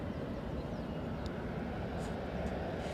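An EasyJet airliner departing Edinburgh for London Luton gives off a steady, distant broadband roar for a few seconds.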